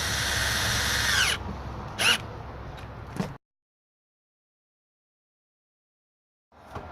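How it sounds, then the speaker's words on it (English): A power drill whines steadily at close range drilling pocket holes in wood, then revs in a few short bursts before stopping; silence follows until a faint noise returns at the end. "Have your dad hold your piece of wood in place and just drill it right into the pocket."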